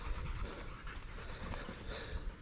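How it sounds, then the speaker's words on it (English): A Rottweiler pants steadily nearby, quick rhythmic breaths heard alone and fairly faint, with no talking. "Let the dog run out."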